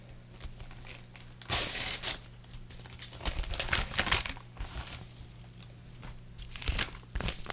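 A paper envelope is torn open and crinkled, a nested envelope inside another, with bursts of tearing and rustling paper close by over a steady low hum.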